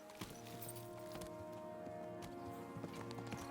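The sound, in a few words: horse hooves clip-clop while riding, from video game Kingdom Come: Deliverance 2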